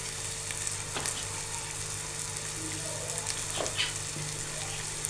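Rice sizzles steadily while frying in a cooking pan, a soft continuous crackle with a few brief clinks and stirring sounds over it.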